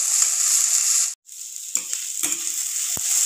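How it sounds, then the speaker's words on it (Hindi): Finely chopped onion, with green chilli in the pan, frying lightly toward golden, gives a steady close sizzle. A brief dropout near the middle is followed by a few utensil scrapes and knocks before the even hiss returns. "बारीक कटा हुआ प्याज, इसको हम हल्का से फ्राई करेंगे जब तक गोल्डन कलर में ना आ जाए।"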